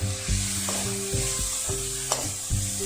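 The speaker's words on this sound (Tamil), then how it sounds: "இது கொஞ்ச நேரம் வதங்கட்டும்." Carrot, beans, capsicum and spring onion sauté in a pan for chicken fried rice, giving a steady close sizzle broken by several scraping stirs at an uneven rhythm, with no talking.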